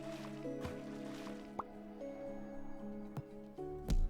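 A water trough is refilled in the cozy farm video game Happy Sheepies: soft liquid drips and squishy splashes over gentle sustained game music tones, ending in a fuller gurgling pour.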